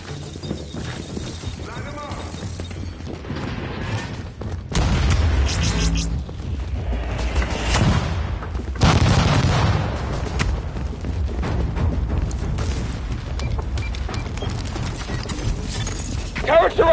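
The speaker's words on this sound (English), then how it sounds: "you need to place those explosives" Explosives detonating in a video game, heavy low booms rolling out at intervals among ongoing combat noise, with voices talking over it.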